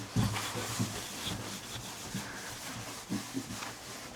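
Excess finish is polished off a Martin 000-15SM guitar by hand, making soft, quiet rubbing strokes in an uneven rhythm, close and gentle.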